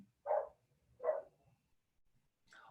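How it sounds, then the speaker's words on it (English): A dog outdoors barks twice in a slow pair, moderately distant, followed by a fainter higher yelp, with quiet gaps between. "I can hear my dog barking."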